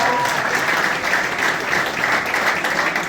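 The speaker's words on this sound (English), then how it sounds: "And round of applause." Loud, sustained applause from a football club's gala dinner crowd greets the junior team captains, a thick, unbroken wash of clapping throughout.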